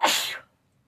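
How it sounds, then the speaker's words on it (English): A single sharp human sneeze, loud and close, bursting out and fading within half a second into silence during a home talk about scripture study. "I'm gonna sneeze"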